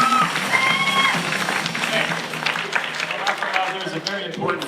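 An audience applauds and cheers for game show players in a studio, producing a dense, continuous wash of clapping with voices mixed into the noise.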